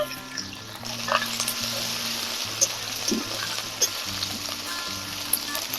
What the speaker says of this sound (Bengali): এখন তেলে ফোড়নের জন্য দিয়ে দিচ্ছি কালো জিরে তিনটে শুকনো লঙ্কা এখন এতে থেতো করে রাখা রসুন দিয়ে দিচ্ছি আদা দিয়ে দিচ্ছি